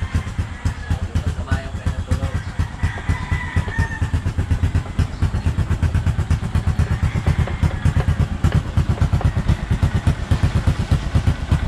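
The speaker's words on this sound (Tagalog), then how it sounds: "Papandarin lang po natin yung ating motor" A motorcycle engine idles close by after starting, a steady loud rapid chugging with a rough exhaust note that runs unbroken for the whole stretch.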